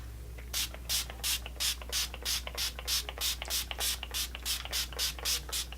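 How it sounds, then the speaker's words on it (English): A setting spray bottle fires in a quick, regular series of short bursts over a made-up face, about a dozen hissing pumps in a row, close up over a low steady hum. "Now I'm just going to spray all around first"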